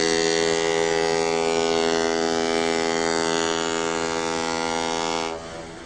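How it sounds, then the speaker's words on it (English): A deep, sustained ship horn blast sounds loudly and steadily for about five seconds, then cuts off abruptly, with no talking. "You know those ship horns?"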